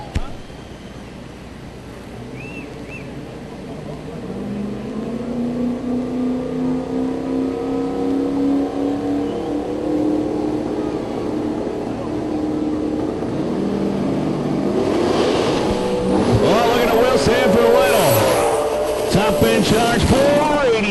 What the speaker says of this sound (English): The 90 Mustang, 388 cubic inch. Single turbo